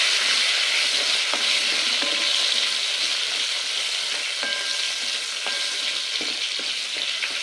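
Pointed gourd (potol) fries uncovered in a pan over medium heat, giving a loud, steady hiss of oil with occasional light clinks of a utensil against the pan and no talking.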